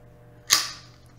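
A single sharp, suppressed crack from a silenced PMI tracer gun mod fired at 25 feet, a close snap with a short hissing tail and no voices.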